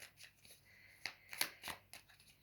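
Tarot cards drawn and handled during a reading, giving a few soft papery slides and light snaps at a quiet level, spaced irregularly with no talk over them.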